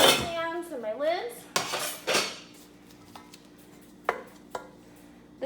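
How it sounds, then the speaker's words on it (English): Frying pans, saucepans and lids clatter and clink as they are handled in a kitchen, with a ringing metallic scrape at the start followed by several sharp knocks spaced out over a quiet background. "Now I'm going to double check my frying pans, my sauce pans, and my lids."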